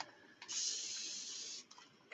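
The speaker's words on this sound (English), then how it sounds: "I'm just gonna spray it so we can move it along" Spray paint hissing from an aerosol can onto a hurricane lamp, one steady close burst lasting over a second, followed by a couple of short puffs.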